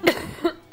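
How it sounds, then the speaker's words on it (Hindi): Two short, sharp coughs close to the microphone, followed by the start of a third. "मुझे पता नहीं क्यों खांसी आ रही है"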